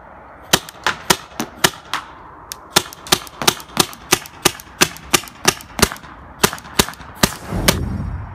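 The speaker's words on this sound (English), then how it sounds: "he's going to demonstrate us shooting with the 12 round mags, just a regular paint" A Tippmann TCR paintball marker fires about eighteen sharp, loud cracks in a steady semi-automatic rhythm, each shot a distinct pop with short gaps, ending with a brief rustle.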